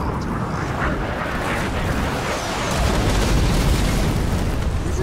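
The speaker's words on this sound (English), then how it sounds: "Reduced an enemy structure to rubble." An enemy structure collapses into rubble during a Halo Wars 2 base assault, a dense, continuous rumbling boom of explosions that swells louder in its second half, heard on its own without talk.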